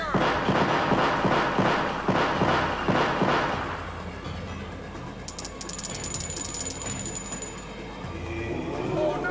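Artillery cannons fire in the Sonic Adventure video game, a rhythmic series of heavy booming blasts in the first few seconds. A mechanical rumble and a sustained high whine follow.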